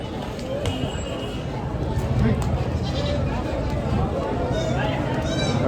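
Goats bleat in short, thin cries amid steady crowd murmur and chatter at a large goat and sheep market in Chakan, somewhat distant and partly buried in the noise.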